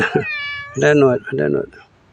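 A cat meows a few times, drawn-out, harmonic cries close by, with short pauses between calls.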